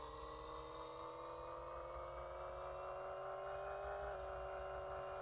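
A car engine held at high RPM climbs steadily past about 5,000 RPM, a continuous, fairly quiet rising whine with strong harmonics that sounds alone, without talking.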